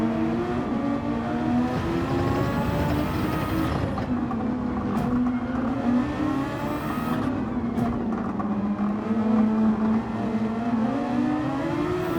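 Race cars in a Gran Turismo 7 Super Formula round braking hard and accelerating out of turns, a steady dense engine drone with rising and falling pitch sweeps, loud and continuous throughout.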